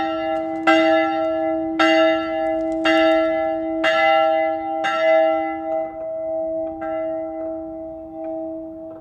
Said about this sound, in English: I'm going to ring the bell quickly